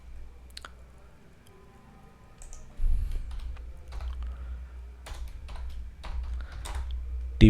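Typing on a computer keyboard while writing a ChatGPT prompt: scattered, irregular key clicks, sparse at first and then quicker and denser, close and fairly quiet, over a low steady background hum, with no talk.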